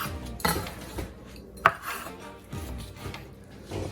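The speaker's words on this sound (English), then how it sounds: "I'm just gonna slice it right down the middle." A knife cuts down the middle of a rack of smoked pork ribs on a board, giving a few sharp cutting clicks and scraping strokes, close and clear with no talk.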